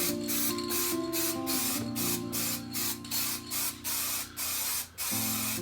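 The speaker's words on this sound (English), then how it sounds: "spray everything with the glue, apply a thin layer of glue" Spray adhesive hisses from an aerosol can onto paper guitar templates and MDF in a series of steady bursts with brief gaps between them, close and loud over faint background music.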